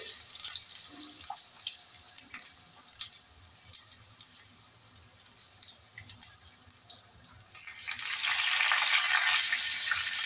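Panch phoron spices hit hot oil in a pan for Bengali khichdi, a faint steady sizzle with light crackles that swells into a louder, dense frying hiss near the end.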